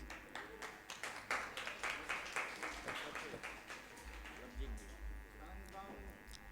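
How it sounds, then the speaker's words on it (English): An audience at the 2019 CCRT Siddhi Samaroh ceremony in Imphal claps in a steady, rhythmic patter, fairly faint, with a low hum and a voice speaking toward the end. "A big round of applause, please."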